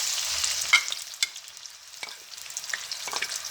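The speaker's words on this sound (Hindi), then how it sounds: "ज़ीरा हमारा जैसे ही थोड़ा सा पॉप हो रहा है, अब देख रहे हैं ऑयल भी हमारा गर्म हो गया। तो अब हम इसके अंदर टमाटर ऐड कर रहे हैं।" Tomatoes dropped into hot oil with popping cumin seeds fry with a soft, steady sizzle, broken by a few sharp crackles and stirring clicks, close and fairly quiet, with no talking.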